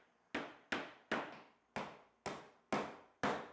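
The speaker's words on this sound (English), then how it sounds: "find any stragglers and hammer them down below the surface" Seven sharp hammer blows setting nails below the surface of a wooden workbench top, evenly spaced about half a second apart, each a crisp close knock with a short ringing decay.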